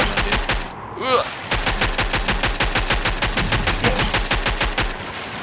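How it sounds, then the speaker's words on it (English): Rapid automatic gunfire rattles in The Walking Zombie 2 mobile shooter, a loud, close, continuous stream of sharp shots with a brief pause near the start and scattered game effects mixed in. "I just feel like shooting some bullets right now"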